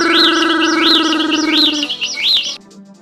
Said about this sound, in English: A bird came, picked up the grain and flew away.